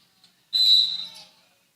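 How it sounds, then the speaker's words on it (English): A referee's whistle at a women's college basketball game gives one sharp, loud, shrill blast lasting under a second. Faint arena background comes before it. "And a whistle."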